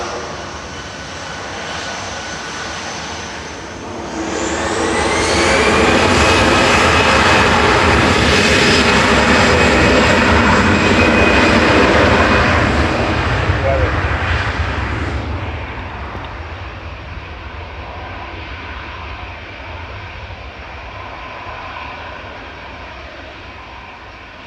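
An Aer Lingus jet airliner inbound from JFK touches down at Manchester Airport, its engine roar swelling loudly over several seconds and then easing back into a steady, fainter rumble.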